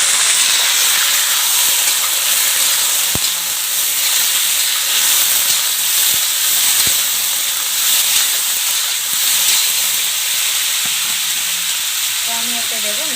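Chicken pieces go into hot oil in a village-style country chicken curry pan, giving a loud, steady sizzle and hiss throughout with a few sharp clinks of stirring.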